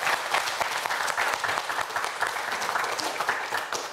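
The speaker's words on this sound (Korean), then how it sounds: "큰 박수 부탁드립니다." Studio audience at a televised science quiz show breaking into loud, sustained applause, dense even clapping from many hands that carries on steadily throughout without a break, close and full.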